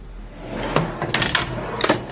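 A workshop drawer full of nuts, bolts and small bike fittings is handled with several sharp clattering knocks and rattles of metal parts, close and loud.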